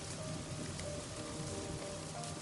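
Steady rain falling on surfaces, a dense continuous hiss with scattered drops, even in level and quiet, with no voices.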